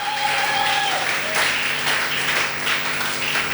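A church congregation bursts into sustained applause and cheering for Jesus, a dense, steady wash of clapping that fills the whole moment at full volume.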